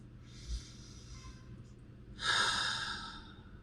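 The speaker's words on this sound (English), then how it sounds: "Take a deep breath." A slow, deep breath taken close to the microphone, a soft airy inhale followed after a pause by a louder, longer exhale that fades out, with no talking.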